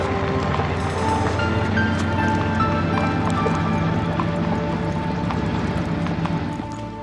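Horse hooves clip-clopping in a steady rhythm, a dense run of hoof beats at close range over a busy background, with a brief murmur of voices, fading slightly toward the end.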